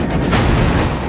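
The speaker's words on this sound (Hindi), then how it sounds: "ये यूक्रेन की बख्तरबंद गाड़ी है। यहां भी धमाका होता है।" Explosion of a drone strike on a Ukrainian armored vehicle, a short, loud, broadband blast with a rumbling low boom that fills the moment and stays noisy without any talk.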